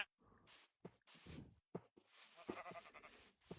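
Sheep bleating in Minecraft VR, several short separate bleats with gaps between them, close and fairly quiet, with no talk.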